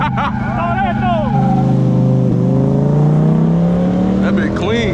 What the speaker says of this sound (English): 10 cylinder. This is the motor engine. Is the Viper.